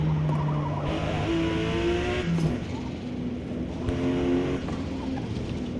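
A race car laps a circuit in a racing video game, the engine note climbing and falling through upshifts as it accelerates and brakes into a corner, a steady loud drone with rising harmonic sweeps.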